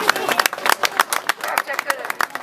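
Scattered, uneven clapping from a small crowd at a Sant'Antonio festival lamb auction in Norcia, individual hand claps audible in a loose rhythm at moderate volume over a couple of seconds.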